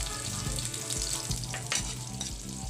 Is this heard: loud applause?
no